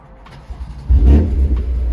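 A BMW M4 with BM3 tuning software installed starts up: a brief whir of the starter, then the engine catches with a loud low rumble and settles into a strong idle.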